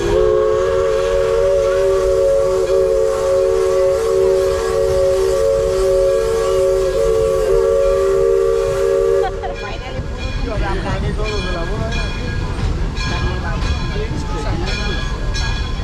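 Steam train whistle sounding a long, loud, steady tone for about nine seconds on a redwood excursion line near Santa Cruz, then giving way to rumbling, clattering railcars.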